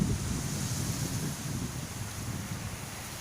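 Sea waves wash onto a beach on the Thai coast near Thepha, a soft, continuous rushing surf mixed with wind noise on the microphone, moderately faint and steady, with no voices.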